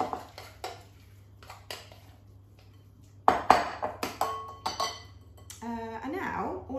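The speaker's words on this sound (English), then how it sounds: "Chuck those in, give them a stir" Broccoli and cauliflower being stirred into a cheesy sauce, with spoon clinks and scrapes against a pan, quiet at first and then louder, busier knocks and clatter, ending in a brief squeaky scrape.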